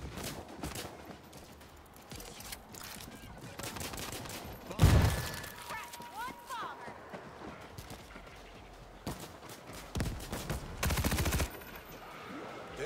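Rapid gunfire crackles in the zombie shooter World War Z, scattered bursts and automatic volleys at moderate distance, with a sharper close blast midway and another dense burst near the end.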